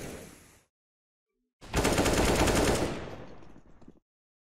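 Automatic gunfire from the video game Counter-Strike: Global Offensive, heard during an ESEA esports match: a loud sustained burst of rapid shots follows a short silence and then cuts off, with no voices over it.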